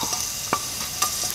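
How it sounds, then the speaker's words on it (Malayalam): Garlic cloves frying in a heated pan for a soya and vegetable dish give off a steady low sizzle, broken by a few brief stirring scrapes. No voices are heard. "ഒരു പാത്രം വെച്ച് ചൂടായതിനു ശേഷം അതിലോട്ട് കുറച്ച് വെളുത്തുള്ളി അല്ലി ചേർത്ത് കൊടുക്കാം."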